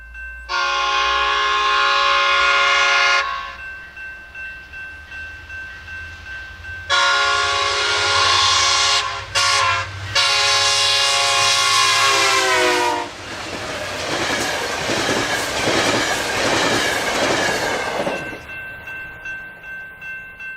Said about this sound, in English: Northstar passes through the final railroad crossing as the train completes its trip